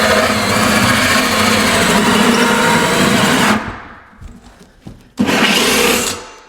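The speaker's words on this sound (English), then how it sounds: "What I like to do is I like to drill till the front until the center bit comes through, and then reverse it." Power drill boring through the wood of a bathroom base cabinet, a steady loud whirring grind for about three and a half seconds, a pause with faint rattles, then a second burst of drilling that fades out.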